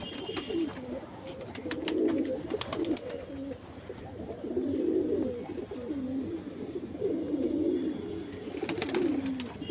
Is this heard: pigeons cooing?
yes